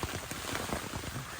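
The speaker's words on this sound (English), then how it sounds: "with the driving rain like this, you can't leave the vents open because it's just, the water's just pouring in" Heavy driving rain pelts a tent during solo winter camping on a small mountain island, a dense steady patter of drops drumming the fabric close by with no pauses.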